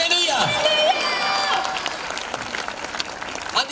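Congregation at a Christian prayer meeting clapping and cheering loudly, with crowd shouts and voices mixed into the applause as it carries on and tapers slightly.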